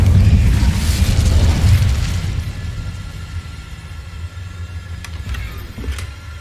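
Incendio fire spell cast in the video game Hogwarts Legacy: a loud, low whooshing burst of flame that rolls and fades over a few seconds, followed by softer crackles and small pops.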